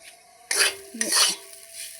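Two quick bursts of a spatula scraping and tossing vegetables in a hot pan before pasta is added, with a light sizzle underneath, close by.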